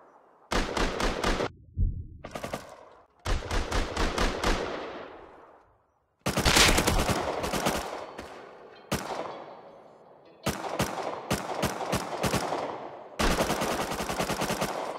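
Automatic and burst gunfire in the survival game Rust, fired at base walls in rapid volleys separated by short pauses, loud and close, with no talking.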